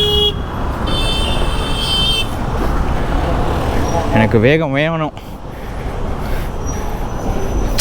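Busy road traffic in Mumbai rumbles steadily while a car horn sounds in a wavering honk midway, with someone speaking over the noise.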